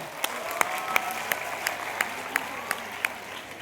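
Sparse applause from children and soldiers at a road safety event at an army cantonment in Jalandhar, a moderate, even patter of claps in a hall with a few louder individual claps standing out at irregular intervals.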